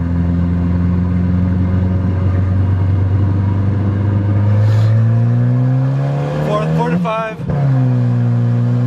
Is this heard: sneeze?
no